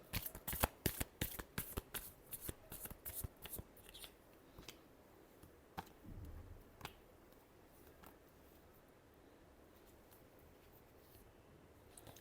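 Tarot cards being shuffled by hand in a rapid run of crisp riffling snaps for several seconds, then a few scattered soft card taps before settling into quiet room tone.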